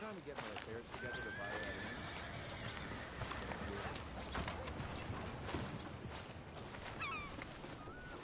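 A horse whinnies in Red Dead Redemption 2 over steady clip-clopping hooves and background ambience, with voices talking throughout.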